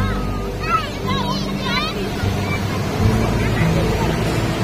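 Big sea waves breaking at Puri beach, a broad rushing surf roar with gusty wind buffeting the microphone, while voices talk and exclaim over it nearby.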